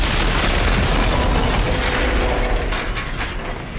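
An M79 grenade launcher round explodes at a doorway in the 2001 PS2 game Max Payne. It lands as one loud, broad boom that fills the clip, then rumbles and slowly fades.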